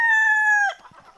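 A Sonali desi chicken on a poultry farm gives a loud, close, drawn-out crow that cuts off sharply after about half a second, followed by faint farmyard rustling.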